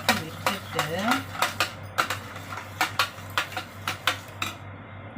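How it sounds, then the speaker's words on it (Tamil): Curd and buttermilk being stirred in a metal vessel, a spoon clinking against the sides in a quick repeating rhythm of sharp scrapes and taps, close and fairly loud over a steady low hum. "இதை நல்லா கலக்கி விட்டுட்டு"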